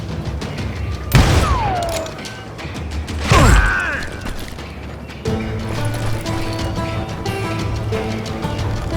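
Enemy gunfire in the Western shooter Call of Juarez: Gunslinger, sharp loud shots and booms with mechanical clatter, two big bursts then steady crackling action, close and alone.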